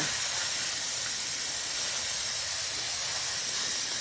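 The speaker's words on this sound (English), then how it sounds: "So I have to let the steam out." Steam hisses continuously from the release valve of an electric pressure cooker after browning meat on the sear setting, a loud, steady, broadband rush close by with no voices over it.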